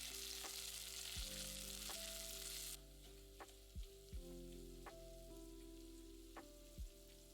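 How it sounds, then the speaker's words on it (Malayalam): Dried red chillies, chopped shallots and curry leaves sauté in hot oil for a Kerala raw plantain thoran. A steady close sizzle runs throughout, broken by several sharp spoon clacks against the pan, with no voices. "4 വറ്റൽമുളക്, 10 ചെറിയുള്ളി അരിഞ്ഞത്, കുറച്ച് കറിവേപ്പില ഇത്രയിട്ട് വഴറ്റുക."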